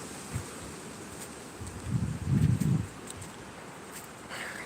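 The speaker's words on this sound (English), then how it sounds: "But it's nice and windy." Wind gusts through trees outdoors with scattered falling leaves, a steady rustling hiss that swells into a louder buffeting burst midway and then eases back, with light microphone rumble.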